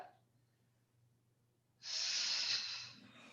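A deep, forceful breath during a mat workout: a quiet, drawn-out inhale followed by a loud, breathy exhale that rushes close and clear, with nobody speaking.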